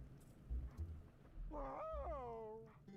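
In the video game Twilight Princess, a cat lets out one brief, faint meow with a rising then falling pitch against low background game sounds, with no talking.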